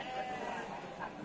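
Sheep at the Wage livestock market in Bumiayu, Indonesia, give a faint bleat or two among the crowd's background murmur, with people talking nearby.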